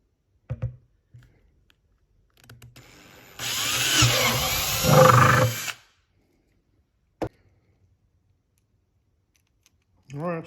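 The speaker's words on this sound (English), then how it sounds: "I guess we're gonna drill the holes up here where there's no lettering" A handheld power drill bores holes into the plastic of a DIY poultry waterer, a couple of seconds of whirring, grinding drilling with a brief pause, between short clicks and handling noises.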